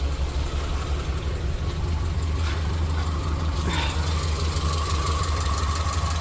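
A 2002 Subaru Impreza wagon engine idles steadily up close with a low, even rumble and a faint ticking edge from a slight exhaust leak or noisy header, with no voices present.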